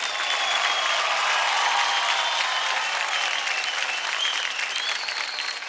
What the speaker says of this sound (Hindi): जोरदार तालियां हो जाए मोइना और राजस्मिता के लिए